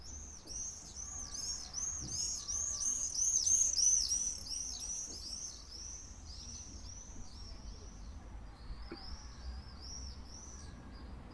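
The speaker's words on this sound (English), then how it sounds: "So this is the sound of the swift, or a group of swifts." A group of swifts screams in a male and female duet, rapid high-pitched shrieking trills repeated in bursts, fairly loud at first and then thinning to fainter calls over a quiet background.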